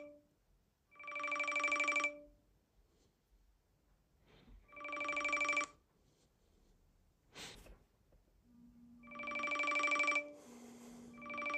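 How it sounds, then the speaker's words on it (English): Several ringtones from a TicWatch Pro 5 smartwatch play one after another with gaps between them, each a bright electronic tone pattern lasting about a second, close and clear with no talk over them. "and we'll check out the ringtones"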